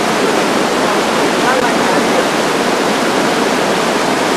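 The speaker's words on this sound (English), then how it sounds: "there's a really big falls here" A large waterfall in a gorge roars as a steady, dense wash of falling water, loud and close, with no break for the whole stretch.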